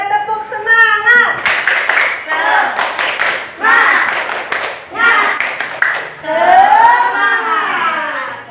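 A classroom of children performs a rhythmic group clapping chant, bursts of sharp, loud hand claps in patterned sequences mixed with their voices, alongside a teacher's lesson.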